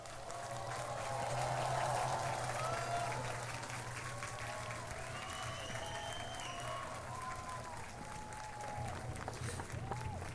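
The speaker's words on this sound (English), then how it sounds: "Can we all stand and give them a round of applause?" A festival crowd at the Hornbill Festival stands and applauds cultural troupes: broad, sustained clapping from a large outdoor audience, fairly distant and soft, with faint voices and a low hum underneath.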